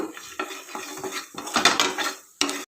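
Chana dal, urad dal and coriander seeds dry-roasting in a pan, stirred with a spatula, giving a run of close scraping and rattling strokes, denser toward the end, with no voices.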